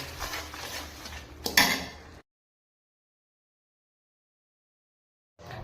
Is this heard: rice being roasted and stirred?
yes